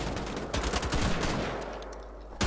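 Gunfire in Wolfenstein: The Old Blood: rapid automatic bursts, loud and close, rattle through the first half, then thin out into a quieter tail before a final sharp hit.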